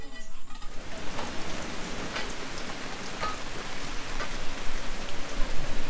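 Rainy-season rain falls steadily at a house building site in the Philippines, a dense hiss of drops on surfaces with scattered louder splats, continuous and fairly close throughout.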